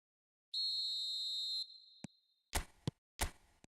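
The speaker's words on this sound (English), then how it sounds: "There's the whistle, and here we go." A referee's whistle sounds at kickoff in an eFootball mobile match, one sustained shrill blast followed by a short chirp, then several sharp knocks, all faint.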